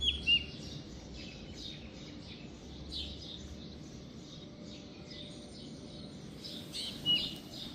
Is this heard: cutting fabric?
no